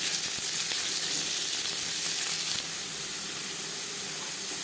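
Onions fry in refined oil with panch phoron and dried red chilli for masoor dal, giving a steady close hiss and sizzle with faint stirring clicks throughout and no voices.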